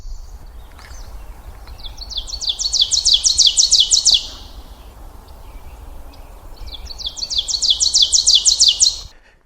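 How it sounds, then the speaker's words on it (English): An ovenbird sings in two bursts of rapidly repeated, rising-in-volume chanting phrases, clear and fairly close, with a quiet woodland background and a pause between the songs. "And while the ovenbird's singing"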